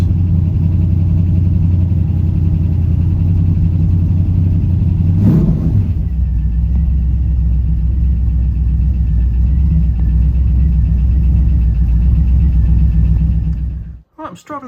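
LS-swapped second-generation Pontiac Firebird with a carbureted V8 idling while warming up, a steady, loud low rumble that holds throughout with a brief blip partway, then cuts off abruptly near the end.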